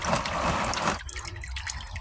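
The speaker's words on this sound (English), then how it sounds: "It's going to start dripping out." Motor oil drains from the oil drain of a Chevy Tahoe 5.3L in a close, steady liquid trickle that thins to lighter splashing drips after about a second.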